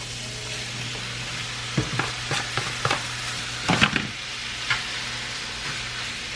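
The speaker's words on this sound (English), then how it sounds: "we're going to let this meat fry up a little bit before we add in the peppers and onions" Meat fries in a pan on a stove with a steady soft sizzle. Several sharp scraping, stirring clatters break through at irregular intervals over a low background hum.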